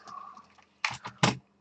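Bursts of typing on a computer keyboard during work on an Atari 1200XL setup, a few quick clusters of key clicks close by with short pauses between them.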